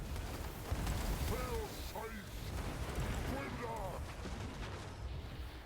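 Rebel musket volleys crackle in a large-scale strategy battle, sustained dense rattling shots under a steady roar of combat, with faint calls and whistling tones over the din.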